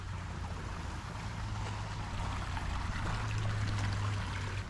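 Steady, gentle trickling of water in a garden stream water feature lined with plants, a continuous close wash with no voices.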